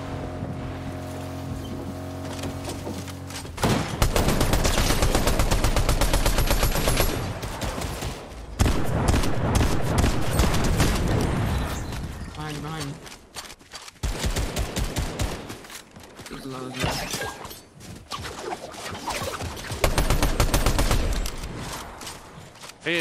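Fortnite gameplay gunfire: loud bursts of rapid shots and automatic fire come in several clusters, separated by a quieter intro and brief pauses, with whooshing game ambience in between.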